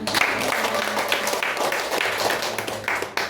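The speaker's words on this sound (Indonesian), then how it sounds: "Jadi saya juga mengapresiasi, kita beri tepuk tangan." An audience at an Indonesian teachers' programme event in Cianjur claps together, a dense, steady patter of applause lasting throughout at close range.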